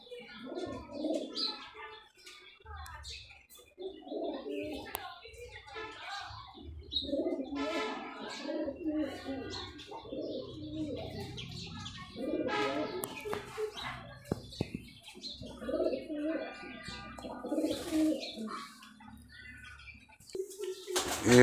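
Local Giribaz pigeons of the Surki (khara) type coo in repeated soft, throaty phrases, fairly close, with occasional chirps from other birds and faint background noise.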